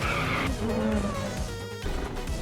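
A truck pulls away with engine noise and a brief tire squeal or skid, loud and close, with no talking.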